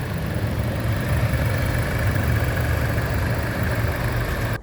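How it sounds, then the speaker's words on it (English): A 2016 Jeep Patriot engine idles at the exhaust, a steady low rumble heard close and alone, cutting off abruptly at the end. "shot of the exhaust with the motor running"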